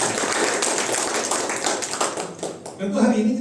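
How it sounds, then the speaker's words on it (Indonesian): A church congregation at a Sunday worship service claps together in dense, continuous applause that fills the room, then fades near the end as a voice begins to talk over it. "Ayo tepuk tangan."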